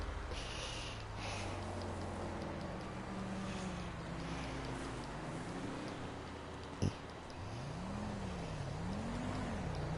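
Car engine in GTA 5 Online, a low steady hum that holds through the whole stretch and rises and falls in pitch as it revs, with a sharp knock partway through; fairly quiet overall.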